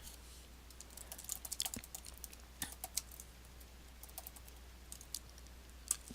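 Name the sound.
typing keywords on a computer keyboard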